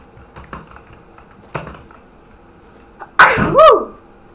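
A single sharp sneeze bursts out close up, preceded by a few faint keyboard clicks in an otherwise quiet room.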